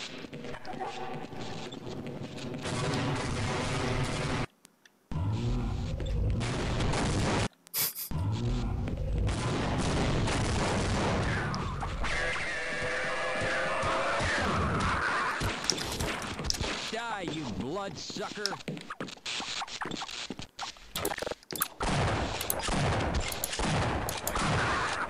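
Gunfire and explosions erupt in the video game Half-Life: Uplink, dense bursts of shots and heavy booms filling most of the stretch, loud and continuous, with brief silent gaps and voices talking over parts of the action.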